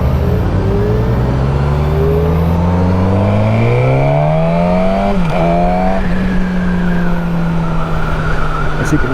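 A 2021 Suzuki Katana motorcycle of 140-plus horsepower accelerates hard, its engine note climbing through rising pitch sweeps with a quick dip at a gear change, then settling into a steady high drone, loud and close throughout.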